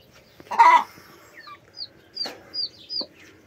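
Young backyard chickens, pullets among a small flock of hens, give a few short clucks and chirpy peeps close by, scattered and fairly soft against a quiet background.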